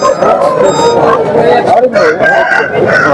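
Breed roosters crow loudly at the Bangarpet hen market, several overlapping cock-a-doodle-doos rising above constant crowd chatter and scattered clucking from nearby fowl.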